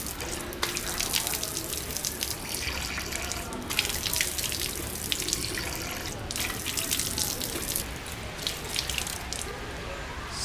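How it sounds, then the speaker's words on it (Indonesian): Water running steadily from a tap for ritual washing before prayer at a palace complex in Cirebon near the coast, a close, continuous splashing gush that stays loud throughout. "Oke, tarik aja Pak tutupnya. Mau wudhu atau cuci muka boleh."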